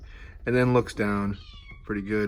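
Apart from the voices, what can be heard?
pet cat meowing in the background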